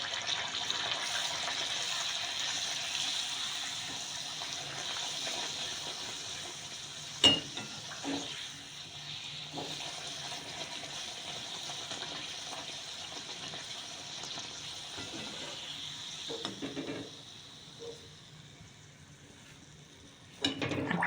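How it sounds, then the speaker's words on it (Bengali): Kachori deep-fry in hot oil with a faint, steady bubbling hiss that runs throughout, broken by a few soft clicks and clinks of utensils. "এইভাবে আমি ভেজে নেবো।"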